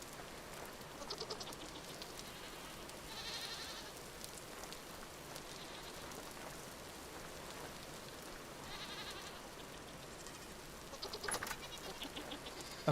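In the survival game Vintage Story, faint goat bleats sound a few times over a steady, soft rain-like ambience, with no talking.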